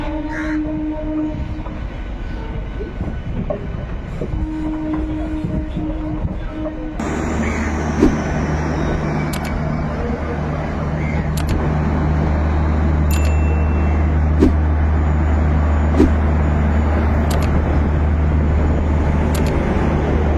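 Crows caw outdoors, then an express train near Howrah station roars in and rumbles past loudly and close by, with rhythmic clacks of wheels over rail joints.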